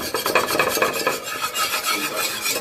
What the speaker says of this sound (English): I'm going to whisk it around, getting all sides